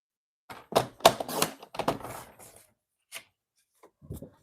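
A paper trimmer slices through cardstock for a card base, giving a series of quick close scraping and sliding strokes in short bursts, then a pause and a few softer clicks and rubs.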